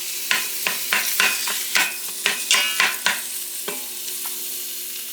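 Food cooks in a pot on a stovetop with a steady sizzle and frying hiss, broken by a series of close, rhythmic stirring scrapes that fade near the end, with no talking.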